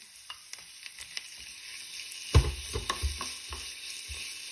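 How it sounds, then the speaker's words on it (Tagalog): Marinated chicken is stirred into sautéed onion and garlic, a soft sizzle under repeated scraping and clattering strokes of a spatula in the pan, with one louder thump midway. "Mix lang natin hanggang mag-combine ang ating mga ingredients."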